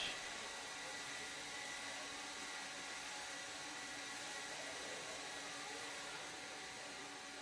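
Air blower running at an indoor RC raceway during a national series race, a steady, even hiss of rushing air, fairly quiet and unbroken from start to finish.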